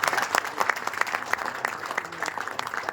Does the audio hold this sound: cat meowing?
no